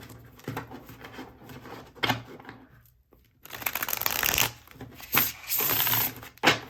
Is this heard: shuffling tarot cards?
yes